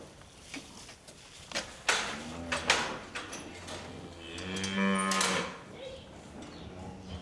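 Dairy cows moo repeatedly in a barn during early-morning care, several loud calls overlapping near the middle, with clanks and stall noise around them.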